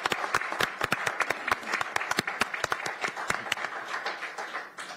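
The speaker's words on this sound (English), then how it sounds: "Please join us in a round of applause." Sustained applause from a crowd at a Pierce County Council meeting, dense overlapping claps at steady volume for several seconds, tapering slightly at the end.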